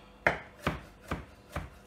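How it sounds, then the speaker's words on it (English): A knife roughly chops onions on a board in four evenly spaced, crisp, close thuds with quiet gaps between them. "I'm gonna chop it roughly."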